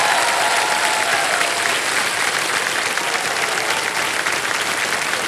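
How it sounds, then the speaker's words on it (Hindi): A large studio audience on the quiz show Kaun Banega Crorepati claps loudly and steadily, a dense wash of applause that continues throughout without letting up. "तालियां बज जाए इनके लिए।"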